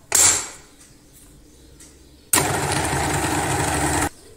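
Electric mixer beating flatbread dough for za'atar and cheese manakish: a sharp clatter first, then the motor whirs steadily and loudly for about two seconds before cutting off.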